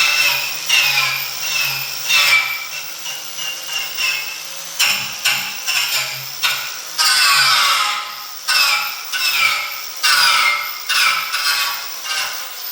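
A power tool grinding and kicking back as it passes across a sharp edge during a street rod build, with loud, close, rasping bursts in a pulsing rhythm of repeated strokes.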